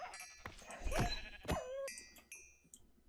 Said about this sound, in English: There's a bighorn sheep.